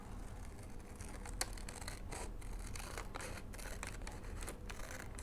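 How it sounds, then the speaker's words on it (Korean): Scissors cut through craft material in a steady series of crisp snips and rustles, close and fairly quiet, with faint handling noise and no talking. "하지만 뭐 요거 할 때는 가위가 조금 더 편할 것 같아서 지금은 가위로 해볼게요"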